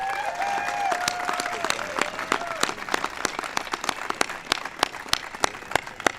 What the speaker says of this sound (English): let's give a big round of applause to Mrs.